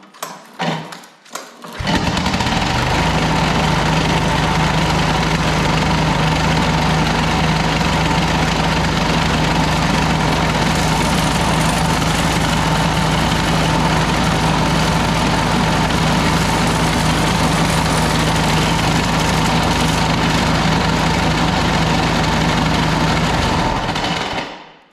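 A Cub Cadet ST 100 walk-behind string trimmer's small engine starts up and runs steadily at a loud, constant drone with a strong vibrating hum for over twenty seconds, alone without talk.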